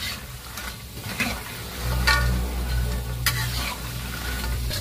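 Dough frying in hot oil in a pan while being stirred and turned, with a continuous close sizzle and occasional scraping strokes of the utensil.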